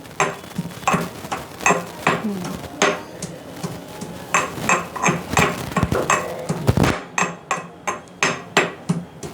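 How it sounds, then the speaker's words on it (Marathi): Garlic and ginger get pounded coarsely in a mortar with a pestle, a close series of sharp, regular thuds and knocks that continues steadily with brief pauses, no talk. "इथे मम्मी आता लसूण आणि आलं टेचून घेते कलबत्त्यामध्ये"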